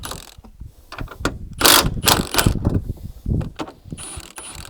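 Wrench loosening 16mm strut top nuts on an L322 Range Rover, a series of quick ratcheting clicks and metallic knocks at close range, with brief clattering bursts and no talking.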